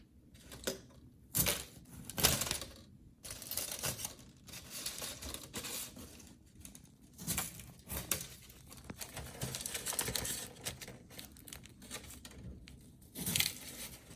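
A knife cuts diagonally through a two-ingredient no-bake chocolate cake, making quiet, irregular bursts of crunchy scraping and crinkling, close and soft, with short pauses between the strokes.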